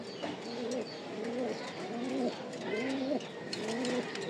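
Racing pigeons coo repeatedly in a loft, male birds in moult, with steady rhythmic throaty calls close by and a light background hiss, no talking.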